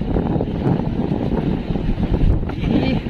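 Strong wind on the Pacific Ocean buffets the microphone in loud, gusty roars, with a rough outdoor rush of open water.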